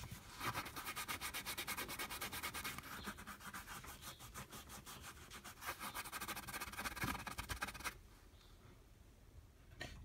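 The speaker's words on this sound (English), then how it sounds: "you just want to grab your cotton round and your acetone, and you just want to rub the old paint off" A cotton round soaked in acetone is rubbed steadily over old paint on a nail, a continuous soft scrubbing that is close and quiet, easing off near the end.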